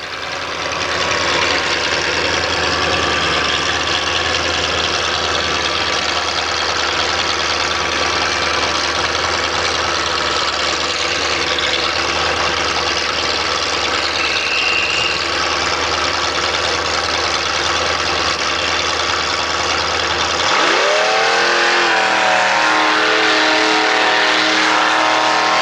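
A pink Ford Bronco's engine drones steadily and loudly at a mud run, then changes sharply in tone near the end as the engine revs.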